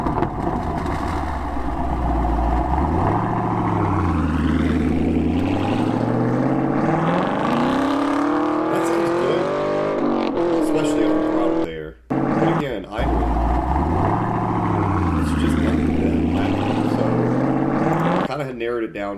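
Chevrolet Camaro SS 1LE fitted with a Borla exhaust, its engine note steady and loud through most of the stretch with a rising rev swell, a brief cut near the middle, then the same pattern repeating.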